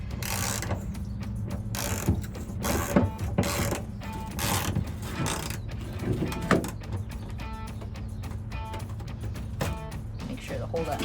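Ratchet wrench tightening a bolt on a Jeep Wrangler YJ 3-point retractable seat belt mount: repeated short pawl clicks in quick bursts, close and moderately loud, with a steady hum underneath.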